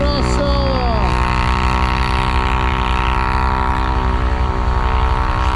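Steady, loud engine drone from a BRP vehicle at a gathering of Stels Guepard ATVs, holding an even, sustained note with strong harmonics and a brief pitch sweep near the start, with no talk over it.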